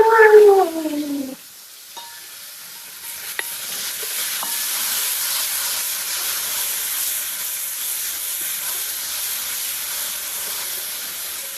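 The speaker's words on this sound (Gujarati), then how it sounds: "તેલ આવી ગયું છે, હવે આપણે એડ કરી દઈશું લસણ." Garlic hits hot oil in a home kitchen pan and sizzles, a sharp burst giving way to a steady, fairly loud hissing fry that continues alone without talk.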